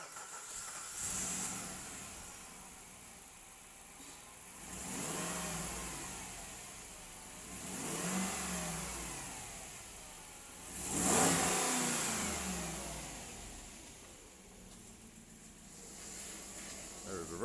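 A 2005 Jeep Grand Cherokee Limited with 146,907 miles idles and is revved in three or four rising and falling bursts, the engine fairly close and steady between pushes, with a sharp spike near the middle.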